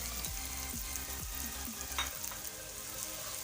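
Chopped tomatoes with ginger garlic paste masala frying for egg gravy, a continuous soft sizzle with a few spoon scrapes and stirs, quiet and without talk.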